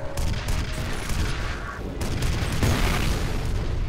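A rocket launcher fires in the shooter game F.E.A.R. Extraction Point. Thick, rumbling bursts of weapon noise and blasts pile up in a busy, noisy firefight.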